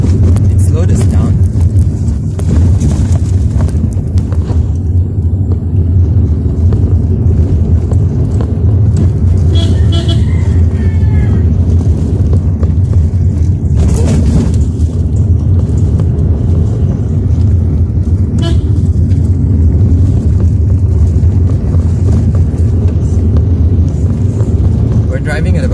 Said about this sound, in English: We're driving at about 40 kilometers per hour. This is a rough road.